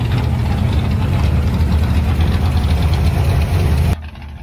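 A camper van's replacement engine idles with a steady, loud low rumble and faint knocking pulses, close up and without talk, then drops off abruptly near the end.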